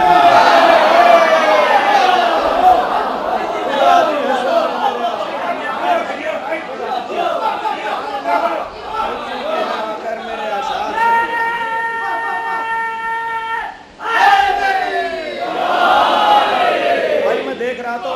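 An audience at a religious poetry gathering in praise of the Prophet's family raises loud collective chants and cries, a dense crowd roar that swells and falls around a speaker's voice.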